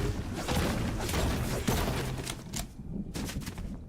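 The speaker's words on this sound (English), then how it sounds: "I heard gunshots" Bursts of gunfire in the Fortnite video game, several sharp cracks and rapid volleys overlapping in a busy, fairly loud stretch of battle noise with no talking.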